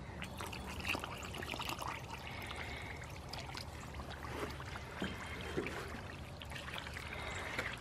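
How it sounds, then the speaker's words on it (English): Water pours into a container of mortar mix for a flower pot, a steady close trickling and splashing stream that runs the whole time with no talk. "I'm gonna pour my water in here."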